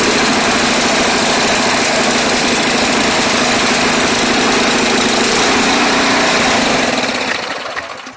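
Ariens Sno-tek 136cc 20-inch two-stage snow blower engine running steadily at close range, a loud continuous buzzing drone that holds for most of the clip, then fades away near the end.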